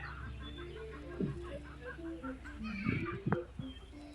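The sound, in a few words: chickens clucking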